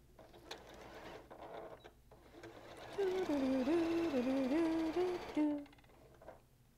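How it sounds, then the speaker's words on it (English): A sewing machine stitches a quarter-inch quilt seam in a steady whirring burst of about two and a half seconds, close and fairly loud, preceded and followed by quiet handling noises. "Go ahead and sew your seam, 1/4 inch seam allowance."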